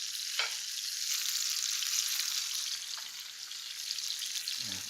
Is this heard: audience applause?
no